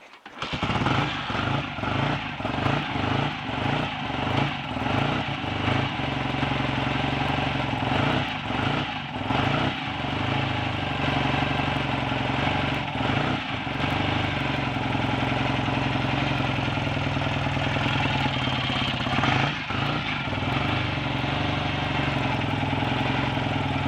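A rebuilt BSA A65 T motorcycle twin engine fires up for its first start after a full rebuild, running close and loud with a steady mechanical drone and uneven, lumpy idle pulses throughout, with no voices.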